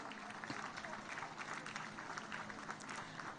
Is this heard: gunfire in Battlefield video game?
no